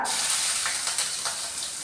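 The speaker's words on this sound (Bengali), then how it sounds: "আদা দেওয়ার পরে আদাটা ভাজা ভাজা করে নিচ্ছি" Chopped ginger frying in hot oil in a pan with a pinch of asafoetida, giving a steady close sizzle and brief stirring scrapes across the whole short stretch, with no talking.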